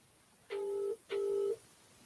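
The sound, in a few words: telephone dialing tones while calling someone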